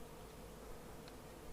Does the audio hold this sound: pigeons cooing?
no